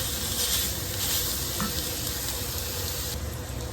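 Onion and garlic sizzle and fry in a pot while dinner is cooked, giving a steady close hiss with a few soft stirring scrapes and no talking.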